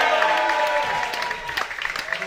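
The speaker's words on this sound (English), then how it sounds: "Rodneys, make some noise for yourselves." A comedy club audience at Rodneys cheers and applauds, a dense burst of clapping with shouts and whoops that stays close and lively before tapering slightly.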